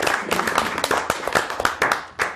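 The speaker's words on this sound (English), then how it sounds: "recommend a round of applause for Matt Patrick." Applause and clapping at a town water quality management committee meeting, a dense burst of many hands clapping together with uneven peaks, filling the room for a couple of seconds.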